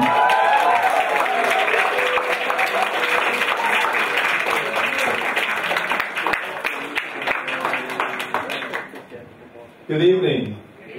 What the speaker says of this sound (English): please stand and give a grand applause